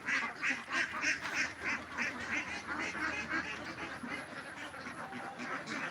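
A flock of ducks on a duck farm quacks continuously in a rapid, overlapping chorus, fairly near and alone, with no voices.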